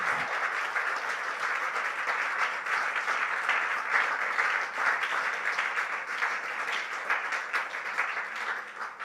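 A church congregation applauds to acclaim the Lord: dense, sustained clapping from many hands that holds steady and loud for about nine seconds, with no clear speech.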